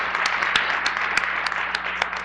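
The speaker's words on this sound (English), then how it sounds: "we ought to give a hand clap to that" Applause for the school board at a superintendent's policy luncheon: a scattered but steady patter of hand claps from a modest crowd, with a few sharper individual claps standing out, heard alone without speech.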